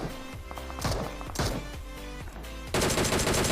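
Rapid gunfire in a battle royale shooter during a solo-versus-squad match at a military base, with loud automatic bursts and sharp single cracks layered over game music, then a dense sustained burst near the end.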